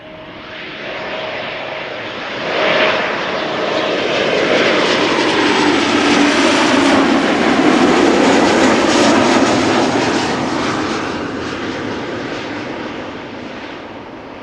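An SAS Embraer 195 jet arriving from Copenhagen at Amsterdam Schiphol roars past, its engine noise swelling to a loud broad rush mid-pass and then fading slowly.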